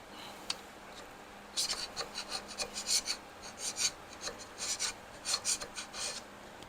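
A carbide scraper works over the surface of a Shovelhead motorcycle engine in short, rasping strokes that start after a quiet second and repeat in an uneven rhythm, close up and fairly soft.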